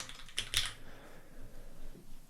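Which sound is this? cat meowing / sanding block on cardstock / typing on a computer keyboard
typing on a computer keyboard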